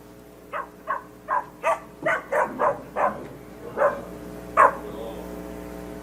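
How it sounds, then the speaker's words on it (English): A recorded dog barks about ten times in a steady series of sharp, evenly spaced barks, fairly loud and close, with no voices over it. "A bark, okay? What kind of animal? A dog."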